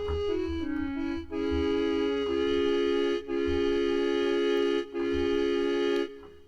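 A keyboard preset with a breathy, flute-like tone, playing sustained held chords in several phrases with short gaps between them, loud and clear with no voices.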